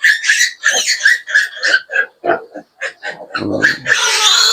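Pigs on a small Philippine farm, including a sow picked for breeding, give a run of short squealing grunts in quick succession, loud and close, ending in a longer harsh squeal.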